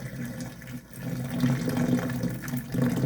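Hot water pours steadily into a kitchen sink drain, a close, continuous gush and splash with a few brief dips in flow.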